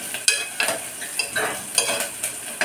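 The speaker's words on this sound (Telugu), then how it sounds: "వేగుతున్న ఉల్లిపాయలు" Onions frying in a pan for a potato curry and stirred, with a soft sizzle under sharp scraping spoon strokes that come in a regular rhythm about twice a second, close by and with no talking.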